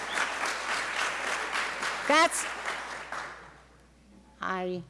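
An audience at a Bethlehem supervisor candidate forum claps loudly for about two seconds, then the applause fades as a voice begins speaking.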